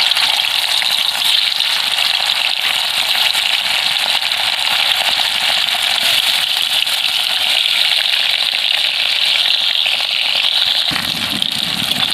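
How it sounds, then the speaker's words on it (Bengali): Hilsa fish fry in hot mustard oil with a loud, dense, continuous crackling sizzle that stays close and constant throughout. "আমি মাছগুলোকে হালকাভাবে ভেজে নেব"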